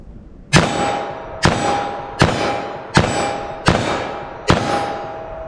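.357 Magnum revolver fired at steel targets 14 yards away, six evenly spaced sharp shots, each followed by a ringing metallic clang that decays, loud and outdoors.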